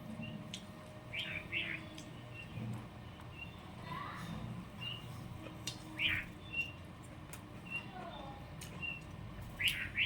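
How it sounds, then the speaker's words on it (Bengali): Small birds chirp in short, bright bursts at moderate distance around a home on a rainy afternoon, over a low steady background hum with faint voices now and then. "পাখিগুলো এসে কিচিরমিচির করছে"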